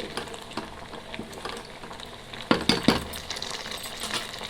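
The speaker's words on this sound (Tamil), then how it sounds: "நல்லா கொதிக்குது" Rava kesari mixture bubbles and pops in a pot, a busy crackling simmer with a few louder bursts of bubbling partway through.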